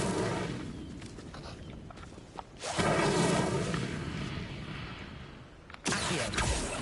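Incendio fire spell cast in Hogwarts Legacy: a loud whooshing flame burst swells, roars for a few seconds, fades, then flares again near the end amid dense game sound.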